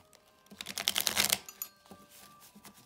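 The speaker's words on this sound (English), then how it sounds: "We're gonna do a little shuffle of the cards and see how they feel just as like a deck." A deck of tarot-style cards being riffled and shuffled by hand, a quick crisp flurry of card flicks rising in the middle then tapering to light taps, close and alone.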